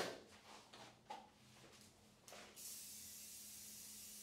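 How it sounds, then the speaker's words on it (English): Spray bottle misting a matted doodle during grooming, with a few faint handling knocks first, then a steady continuous hiss that holds to the end, quiet and close. "I'm spraying this"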